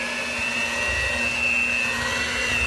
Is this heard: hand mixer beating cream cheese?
yes